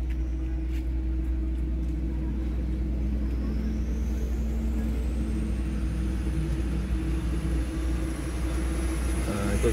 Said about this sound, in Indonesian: Itu truk.